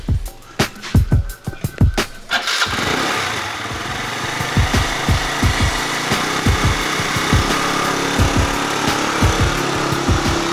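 A motorbike engine idles and revs steadily at close range on a Bali street, with a few sharp knocks and rattles at the start, running continuously throughout.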